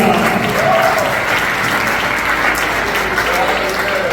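A church congregation bursts into loud, steady applause for the Lord during a sermon, dense clapping continuing evenly throughout with crowd voices mixed in.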